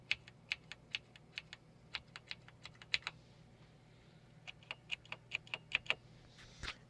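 Typing on an old NEC MultiSpeed HD laptop keyboard with White Alps switches: crisp, clicky keystrokes in irregular bursts with a short pause in the middle, close but quiet, over faint background hum.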